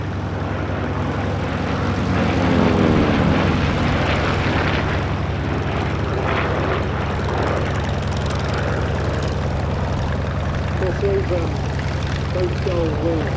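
Corsair navy fighter planes pass overhead at the Sywell 2024 airshow, their large propeller engines producing a steady, loud droning roar that swells and fades, with a commentator talking over it throughout.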